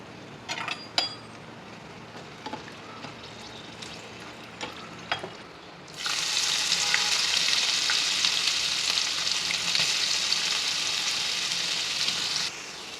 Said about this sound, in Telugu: కొద్దిగా మెంతి పొడి దంచి పెట్టుకున్న వెల్లిపాయ ముద్ద వేసి వేగనివ్వాలి